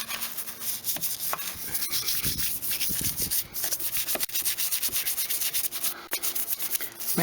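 Car wheels on a Nissan Micra, scratched and corroded, get scrubbed during a contact wash, producing steady close rubbing and scraping strokes in a quick repeated rhythm throughout.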